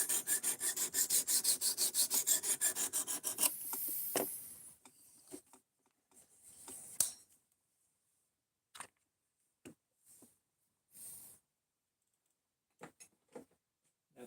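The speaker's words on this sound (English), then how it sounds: "We're going through a full sharpening cycle." A blade being stropped during a full sharpening cycle, with rapid rhythmic rubbing strokes for about four seconds, then scattered soft scrapes and handling taps with quiet gaps between.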